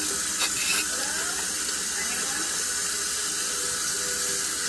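Hot water runs steadily from a tap into a sink while sneakers are being washed, a continuous close rushing hiss, with a couple of light knocks right at the start.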